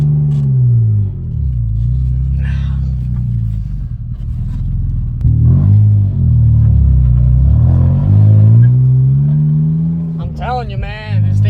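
A BMW E39 drift car engine revs and drones loudly and up close, its pitch rising and falling through several long pulls, while people talk over it.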